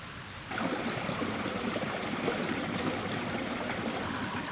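The Villahermosa river, also called the Linares, runs as a steady broadband rush of stream water near Argelita. The flow swells in after a quieter first half second and then holds continuous and fairly close.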